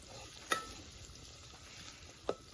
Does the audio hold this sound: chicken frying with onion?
yes